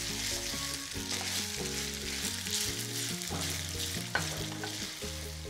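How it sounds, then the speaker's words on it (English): Drained spaghetti and pancetta sizzle steadily in a pan while being stirred, the crackling hiss sitting under soft background music, with one small clink and no speech. "I'll just stir so it's nicely coated with the pancetta flavor"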